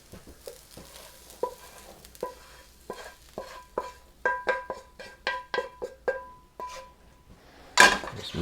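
Corn and black beans with red bell pepper are tossed in a bowl for a roasted corn salad, giving a run of soft clicking and scraping strokes, irregular at first and then quicker and steadier, close and moderately loud.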